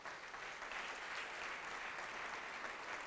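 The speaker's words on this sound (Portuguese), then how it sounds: "Vamos aplaudir mais ao nome de Jesus." A church congregation applauding, a steady dense wash of many hands clapping throughout, fairly distant and even in level with no voices standing out.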